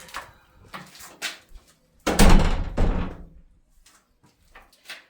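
A newly built, makeshift door slamming shut, a loud close thump followed by a rattling decay, with a few softer knocks and handling bumps before and after.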